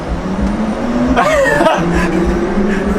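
Mercedes AVTR concept car pulling forward, its steady electric drive hum with a faint rising whine, heard close and continuous with no engine revving.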